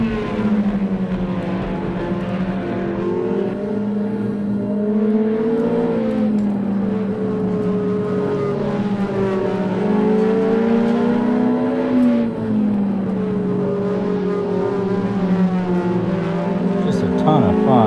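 A Ferrari 360 engine revs hard on the Nürburgring Nordschleife, its loud, steady drone rising in pitch through each gear, with brief shift dips around six and twelve seconds, heard from inside the car.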